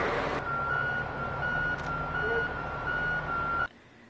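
A truck's reversing alarm beeps steadily in a repeating series at a single pitch over a low engine rumble, then cuts off abruptly near the end.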